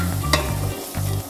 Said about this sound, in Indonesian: Tumis kembali hingga wangi.